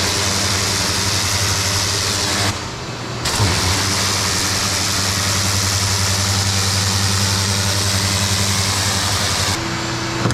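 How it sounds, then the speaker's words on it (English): Powerful pressure washer running with a loud steady engine-like roar, briefly cutting out twice as the trigger releases, used while detailing a car's paint. "when I turn the power down on this pressure washer, it just doesn't hit the same"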